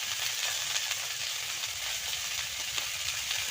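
Ground cumin, chili and turmeric with spice paste fry in hot oil, making a steady, loud, continuous close-up sizzle with no break and no talking.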